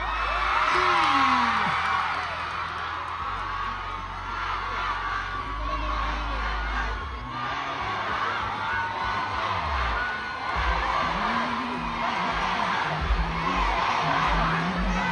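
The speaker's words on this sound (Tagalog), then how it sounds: "Magpalakpakan na may kasamang hiyaw lahat ng niniwala ka ang ganda ko sa personal." A live audience at a Vice Ganda special-announcement show shouts and cheers loudly and continuously, a dense crowd roar with whoops and yells sustained throughout.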